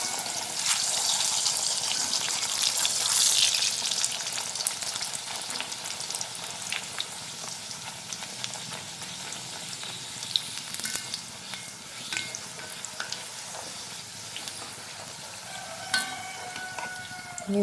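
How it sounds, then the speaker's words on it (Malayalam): Pooris deep-frying in hot oil, a steady bubbling sizzle that swells loudly early on and then settles to a constant hiss, with occasional utensil clinks near the end and no talking. "ഇങ്ങനെ എല്ലാ പൂരിയും നമുക്ക് എണ്ണയിൽ വറുത്തെടുക്കണം"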